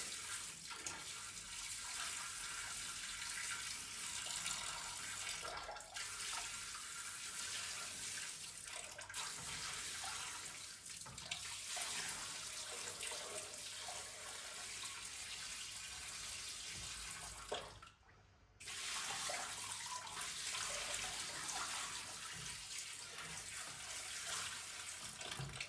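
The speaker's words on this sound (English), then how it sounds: "Splashing real nice." Water poured from a bucket into a Red Sea Reefer G3 250 aquarium tank splashes in a steady, loud, continuous rush, briefly stopping near the end before resuming.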